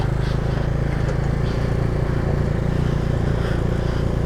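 A motorcycle engine labours on a steep, rough mountain road between Kaza and Manali in Spiti, a close, steady low drone that never picks up pace.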